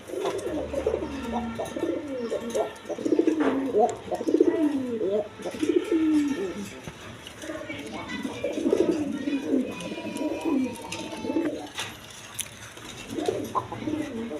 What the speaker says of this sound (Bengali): এখানে এক পেয়ার চিলা কবুতর আছে বোম্বাই